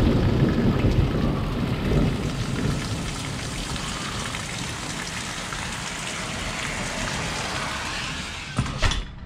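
Heavy rain pours steadily in a thunderstorm that floods the yard, with deep thunder rumbling loudly at the start and a closer crack near the end.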